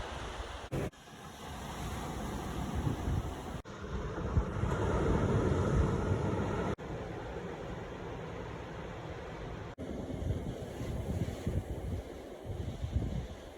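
Ocean surf rolls onto a beach on the Sea of Cortez, a steady broad wash of breaking waves that swells and eases, mixed with gusty wind buffeting the microphone.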